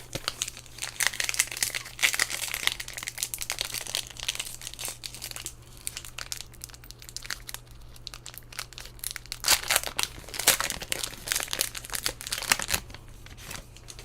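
The foil wrapper of an Innistrad Double Feature card pack crinkles and tears open close by, in bursts of crackling rustle with brief pauses between.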